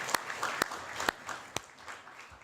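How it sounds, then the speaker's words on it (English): Applause from the audience at a public safety and counterterrorism forum, a thin, fairly quiet patter of scattered claps with a few sharper hand smacks standing out, fading slightly toward the end. "Let's give him a round of applause"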